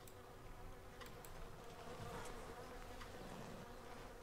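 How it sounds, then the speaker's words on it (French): Flies buzz steadily in a Civilization VI New Frontier multiplayer game session, a faint, continuous insect drone with a few brief louder passes and no talk. "J'entends des mouches."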